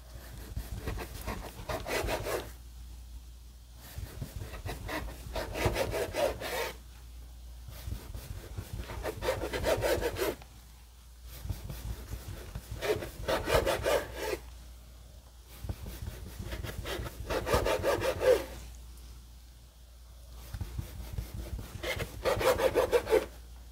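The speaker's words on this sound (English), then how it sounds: "I've got my 4 tortillas here, and I'm slicing them into thin strips." Knife slicing stacked corn tortillas into thin strips on a cutting board, a steady series of rasping, rhythmic cutting strokes in five bursts separated by short pauses, close up with no talk.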